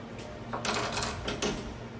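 Metal machining clamps for a Hurco VM20i setup jingle and clink as they are handled, with two or three bright metallic clatters close by.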